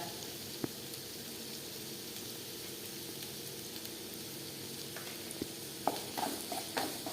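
Chopped shallots with a pinch of salt sautéing in a pan for a chicken kondattam base give a soft, steady sizzle, with a few light spoon scrapes and taps toward the end.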